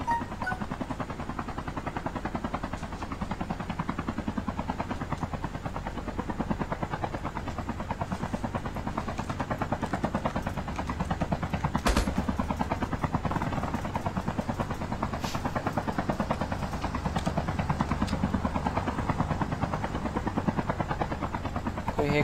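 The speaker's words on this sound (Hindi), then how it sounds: "अरे भाई हर समय पे हेलीकॉप्टर" A helicopter in the mobile video game Call of Duty Mobile flies overhead, its rotor chop a continuous, fairly loud whir that holds steady for the whole stretch.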